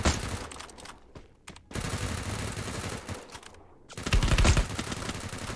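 Rapid automatic gunfire crackles in Free Fire Max, a mobile battle royale game, in loud sustained bursts with short silent gaps, the last burst heavier and punchier.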